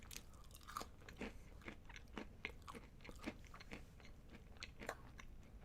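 Close, loud chewing of crunchy food, with irregular bites and crisp crunches repeating throughout and no talking over it.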